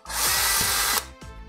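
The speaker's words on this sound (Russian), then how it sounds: "Я беру шуруповерт засверлю отверстие" A cordless screwdriver drills a hole into material for mounting a spring-loaded blind bracket. One loud, high whirring run lasts about a second with a steady motor pitch, then cuts off, followed by a brief second spin, with no speech.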